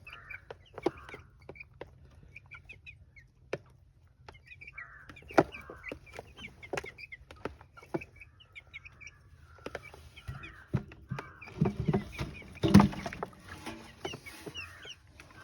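Chickens feed on black soldier fly larvae, giving repeated soft clucks and pecking taps at close range, with a few rooster-like calls and brief rustling bursts toward the end.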